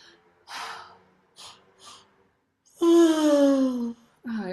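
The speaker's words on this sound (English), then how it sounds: "I'm yawning because I'm starting to regulate just by softening." A person yawns while deliberately softening the jaw, throat and chest: faint breathy sounds first, then one long, loud, drawn-out vocal yawn that falls in pitch, followed by a breathy exhale.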